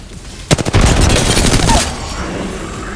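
Rapid automatic gunfire from a video game firefight crackles close and loud in a quick burst of repeated shots, then fades into a lingering echo.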